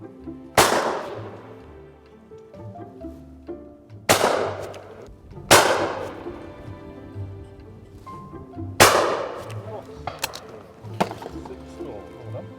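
Shotgun shots fired at clay targets at a shooting school, four loud sharp blasts spaced a couple of seconds apart, each ringing off, with quieter handling sounds between.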